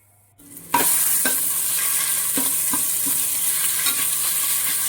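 Ginger garlic paste fries in hot oil in a cooking pot, with a steady loud sizzle that starts about three-quarters of a second in and continues throughout. Occasional scrapes and clinks of a stirring spoon sound against the pan.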